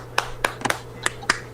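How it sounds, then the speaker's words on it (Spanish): Scattered virtual applause for Dr. Gabriel Escalona at an online trauma-care session: six or seven sparse, separate claps or snaps from a few people, fairly close and crisp over a faint steady hum. "dar un aplauso al doctor Gabriel"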